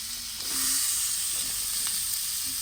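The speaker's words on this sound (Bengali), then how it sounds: "টমেটোগুলো এর সঙ্গে ভেজে নেব।" Chopped tomatoes fry with ginger, garlic and onion in a pan, giving a loud, steady hissing sizzle throughout, with faint utensil touches now and then.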